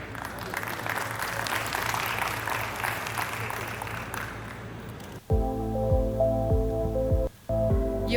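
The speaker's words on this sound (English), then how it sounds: "Please, let's give him one more time a round of applause." An audience at a factory inauguration for a Saudi-made baggage handling facility claps in a steady, dense round of applause for about five seconds, then gives way to loud tonal music or hum.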